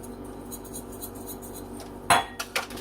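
Black pepper seasoning being mixed together in a bowl, quiet background hum, then a sharp utensil clink against the dish and a couple of lighter taps.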